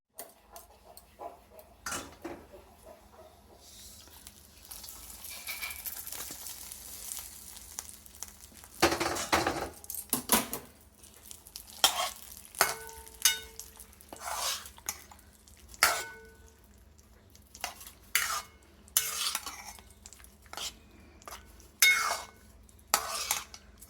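Dry fruits being stirred into poha payasam (atukula payasam) in a pan, giving intermittent close scrapes and clinks of a spoon against metal, loudest in short bursts, with no talking.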